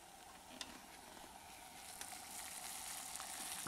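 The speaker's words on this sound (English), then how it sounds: "it's boiling. It's a rolling boil right now" Steady bubbling and hissing of water at a vigorous rolling boil on an ultralight cat stove, close up, with faint scattered clicks and no voices.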